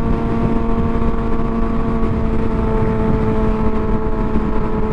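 Motorcycle engine running steadily on a highway at sunset, a continuous loud drone with stable tonal hum and heavy wind rush, no clear gear-shift breaks.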